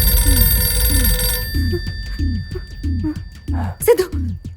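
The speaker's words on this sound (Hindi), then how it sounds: "सिद्धू, वो फोन मत उठाना प्लीज सिद्धू।" A telephone rings with a repeating warbling electronic trill, about eight evenly spaced bursts, loud and close in an indoor drama scene, with steady hiss at first and a brief voice near the end.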